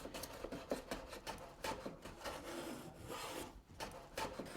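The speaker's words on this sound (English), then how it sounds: "I'm going to shave it so I take more off of the bottom, creating a slight bevel" Hand plane shaving a wooden board with the grain to cut a slight bevel during house finish carpentry, a close, dry rasping stroke repeated in several uneven passes with no talking.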